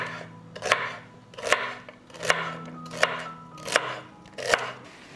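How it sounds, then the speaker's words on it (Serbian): A knife chops celery on a cutting board in a home kitchen, close and crisp, with evenly spaced single strikes about every three quarters of a second, six or seven in all, and no talking. "iseckat ću celer"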